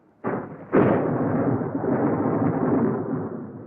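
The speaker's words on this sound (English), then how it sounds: "doing the weekly shopping for the Browns, when he got caught in a storm." A thunderstorm in a Paddington children's TV episode: a sharp crack of thunder followed by a heavier clap, then a steady, loud rumbling roar of rain and storm noise that holds to the end.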